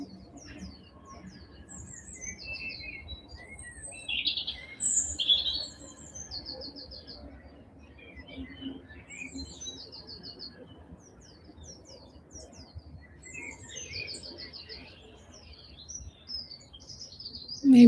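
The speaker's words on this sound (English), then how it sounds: "Maybe being with the sounds of the birds" Small birds chirp and tweet in scattered bursts in the morning, fairly faint and distant over a low steady rumble of background noise.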